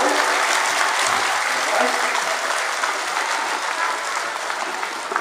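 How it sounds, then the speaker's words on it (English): An audience gives dense, steady applause for taekwondo demonstrators, many hands clapping loudly and evenly for several seconds, with a hint of voices underneath. "let's give a warm applause to our demonstrators."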